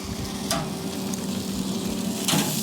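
Steak sizzles and fries in a pan at home, a steady close crackle with a couple of brief scraping or flipping sounds and no voices.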